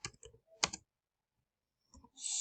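Quick bursts of clicky computer keyboard typing as a search is entered on Pinterest, a couple of short flurries of keystrokes, then a pause before a steady noise starts at the end.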